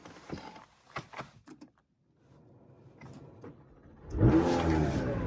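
A few clunks and a door-like thud, then a McLaren 720S engine cranks and roars to life, settling into a loud, steady idle.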